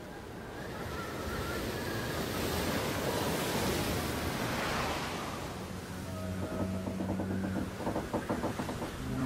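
Stormy ocean waves churn and surge in a steady, loud broadband roar that swells and recedes, with wind noise throughout and no voices.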